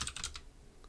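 Rapid clicking of a computer keyboard in a computer science lecture: a short burst of several crisp, close keystrokes, then quiet room tone.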